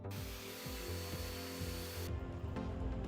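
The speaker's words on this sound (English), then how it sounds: "After I'm done, I go ahead and use the brush on the vacuum to clean up." A vacuum cleaner with a brush attachment sucks up debris after work on a custom game master screen. It gives a loud, steady motor roar with shifting tones, and the roar thins out abruptly about two-thirds of the way through.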